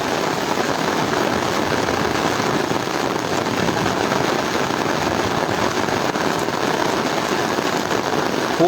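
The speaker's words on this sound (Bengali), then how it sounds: "খুব বেশি বৃষ্টি হয়েছে, আমি দাঁড়িয়ে আছি তাও অনেক কষ্টে, আমি পুরো শরীর ভিজে গেছে।" Heavy rain pours beside the flooded Gomti river in Cumilla, a dense, steady roar of falling water that stays loud and unbroken throughout with no voices.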